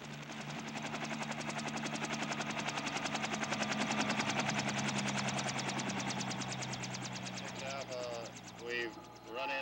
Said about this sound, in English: helicopter units make a surprise descent on suspect villages